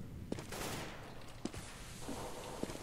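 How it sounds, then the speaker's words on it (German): Counter-Strike gunfire on de_dust in a competitive ESEA match: a few sharp, separated shots ring out over a steady background roar of game ambience, moderately loud with no speech. "Nico verschießt da den ersten Schuss."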